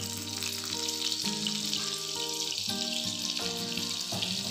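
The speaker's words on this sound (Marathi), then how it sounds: "3 टेबलस्पून तेल गरम करण्यास ठेवलेलं आहे, त्याच्यामध्ये इथे मी थोडंसं बटर घालून घेत आहे." Butter sizzles and crackles as it melts into about three tablespoons of hot oil in a pan, a steady, close frying hiss with tonal hum running underneath.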